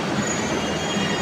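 A metro train rumbles steadily through Ernakulam station with a faint wheel squeal, a continuous close rolling noise with no voices heard.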